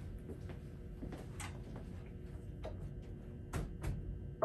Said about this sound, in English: I'll exit out the door, come in